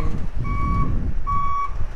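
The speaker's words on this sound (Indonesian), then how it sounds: "bus besar ini" A large bus travels along a road near Padang Panjang, its low engine rumble running steadily under two repeated high electronic beeps.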